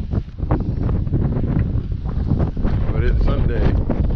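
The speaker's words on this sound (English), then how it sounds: "Well, a little windy." Strong gusting wind buffets the microphone in a loud, steady roar, with a voice briefly audible underneath.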